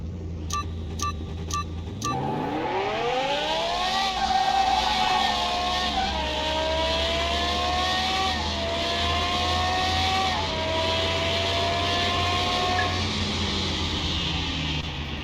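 Race car engine in Car Mechanic Simulator 21 revving up hard with rising pitch after a few short clicks, then holding a loud, steady high-rev drone with small pitch dips for the rest, no talk.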